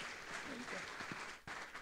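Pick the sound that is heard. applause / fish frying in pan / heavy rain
applause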